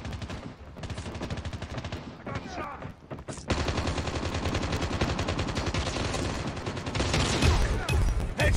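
Rapid gunfire in the shooter game Call of Duty Mobile, with dense bursts of automatic shots that swell louder and fuller partway through and keep rattling steadily, with a player's voice talking at times.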